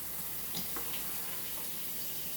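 Frozen beef sizzling in a frying pan for taquitos, a steady close hissing crackle with a few faint pops, heard alone.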